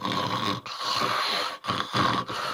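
A human voice imitates a snoring growl: three rough, raspy, sustained rumbles separated by brief breaths, loud and close, with no other sound.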